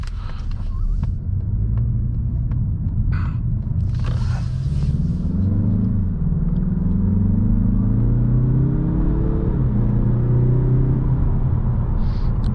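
Interior engine rumble of a 2023 Mazda 3 Turbo hatchback with a six-speed gearbox pulling through a U-turn, a steady low drone that rises and falls as the engine revs, with faint tyre and cabin noise and no talk.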